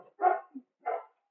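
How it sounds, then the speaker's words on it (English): Clover, a pet dog, barks at someone at the door: two sharp, separate barks with a small yelp between them, heard clearly against an otherwise quiet room. "My dog is freaking out. There's someone at the door."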